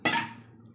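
A metal kadai set down on a kitchen stove gives a single sharp clank with a short ringing decay, close and alone.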